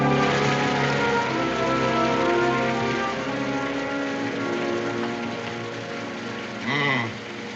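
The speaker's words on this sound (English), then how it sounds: "I would have preferred that it hadn't rained tonight." Night rain falls steadily in a 1969 Western TV drama, a constant hiss running beneath sustained tonal sounds, with a short rising and falling swell near the end.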